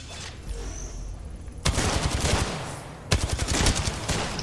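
Rapid automatic gunfire from a video game crackles in two sustained bursts, loud and dense, following a quieter stretch of game sounds, with no talking over it.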